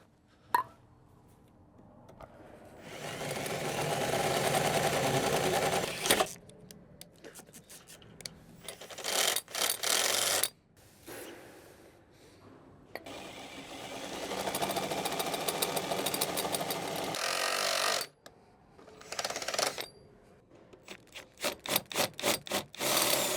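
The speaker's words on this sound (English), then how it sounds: "So we're just going to drill out those holes." A power drill whirs in long, loud bursts while drilling holes in a car door, with short clicks and stuttering pulses of the tool between runs.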